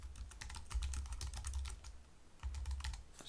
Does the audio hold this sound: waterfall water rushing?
no